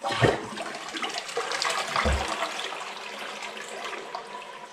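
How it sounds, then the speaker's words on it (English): A Toto Aquia IV toilet gives a small flush: a quick rush of water swirling through the bowl, followed by a steady refill hiss and trickle, heard close up. "Let's do one more flush, a small flush, just for testing's sake."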